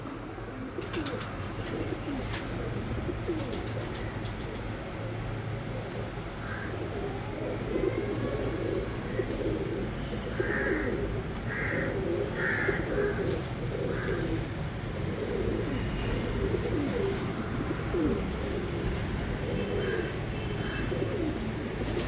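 Breeder pigeons cooing on a rooftop loft, soft repeated coos rising over a steady, dense background hum and clatter throughout, with no voices breaking through.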